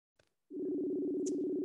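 Steady telephone ringback tone droning for over a second after a faint click, clear and close on a phone line before a call is picked up.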